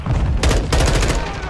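Gunfire in Call of Duty Modern Warfare II during a hardpoint match: two sharp, loud bursts of rapid shots close together, with low rumble in between and a voice speaking briefly.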